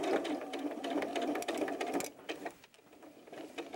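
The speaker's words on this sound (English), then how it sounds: "I'm sewing around this using a 1/4 inch seam allowance" A sewing machine stitches a mermaid doll softie from fabric with a 1/4 inch seam allowance, giving a close, steady mechanical whir that runs for about two seconds, then eases into slower, uneven stitching.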